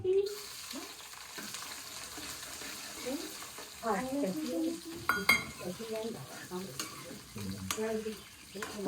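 Garlic and ginger fry in a pan with cumin, a low steady sizzle under a stirring spoon scraping and tapping the metal, while a voice talks intermittently nearby.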